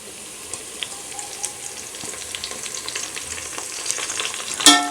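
Mint being stirred into biryani masala for a stingray fish biryani, a low steady frying hiss with faint scraping stirs and a louder clink near the end, with no talking.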